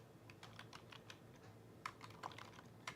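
Quick typing on a computer keyboard, a steady run of light clicky keystrokes with a few sharper taps, close and quiet, with no one speaking.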